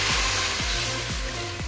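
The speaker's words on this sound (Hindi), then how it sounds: "अब हम इसमें पानी शामिल करेंगे।" Water poured into a pan of peas frying with spices, giving a loud, steady sizzling hiss throughout with soft repeated low knocks or pulses.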